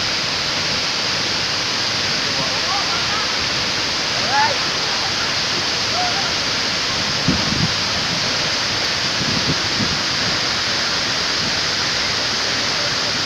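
Mother Falls waterfall in Baler roars as a dense, unbroken rush of water, loud and close, with brief faint voices now and then beneath it.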